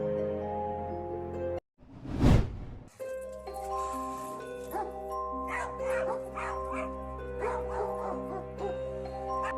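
Two dogs bark and yip at an approaching mountain lion during an evening walk near a home, with sharp repeated barks and whimpers close by over a steady tonal hum.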